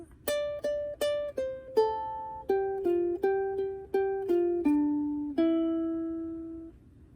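A ukulele plucks a melody from "Al Hanissim," about a dozen bright notes in a steady rhythm, each ringing briefly before the next, ending on a longer sustained note.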